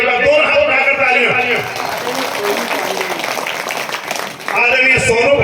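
Audience applause at a Hindi poetry recital: a dense, steady wash of clapping fills several seconds, with a voice speaking just before and after it.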